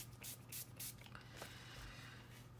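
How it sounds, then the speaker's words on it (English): Short hissing bursts of gloss aerosol spray, a few quick puffs in a row, close by and fairly quiet, with no voices. "let me come back with the gloss spray"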